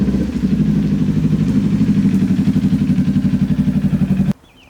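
A motorcycle ridden on a road at about 50 degrees with no wind, its engine running with a steady pulsing throb, loud and close, cutting off abruptly near the end.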